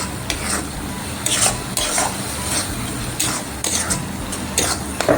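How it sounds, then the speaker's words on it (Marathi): About two spoonfuls of pav bhaji masala sizzle in oil on a hot tawa while a spatula scrapes and stirs it in repeated rhythmic strokes over a steady frying hiss. "तो पण आपल्याला छान फ्राय करून घ्यायचा आहे, म्हणजे एकजीव करून घ्यायचा आहे."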